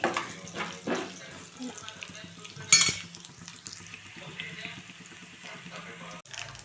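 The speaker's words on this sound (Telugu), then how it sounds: "ఇలా ఫ్రై అవుతుంది కదా. మినపప్పు కొద్దిగా బ్రౌన్ కావాలి" Urad dal frying in a pan until brown, a soft steady sizzle with occasional stirring scrapes and a brief louder clatter midway, close and fairly quiet throughout.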